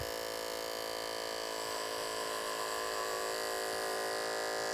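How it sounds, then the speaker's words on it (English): Electric hair clipper buzzing for a fade haircut, a steady close mechanical hum with a bright whine held without pause, no voices. "So I'm going to turn the clipper on."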